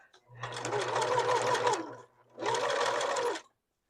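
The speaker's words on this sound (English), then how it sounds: "you can see where the turn is tight that I'm having to stop and lift my presser foot with greater frequency" A sewing machine stitches an upcycled piece around a tight curve in two bursts, with a brief stop between them while the presser foot is lifted; the steady mechanical whir is close and loud.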